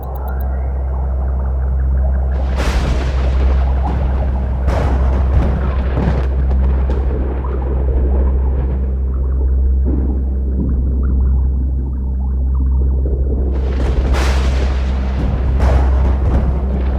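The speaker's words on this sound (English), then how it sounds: "There was an explosion in one of our gravity" A deep explosion rumbles through a storm-catcher station in a sci-fi series, heavy low booms rolling continuously with sharper bursts cracking over the top at intervals.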